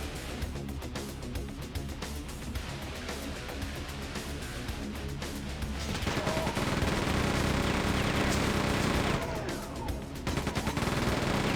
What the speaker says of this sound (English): The minigun is so nice in this.